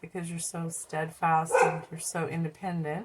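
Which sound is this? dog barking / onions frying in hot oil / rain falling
dog barking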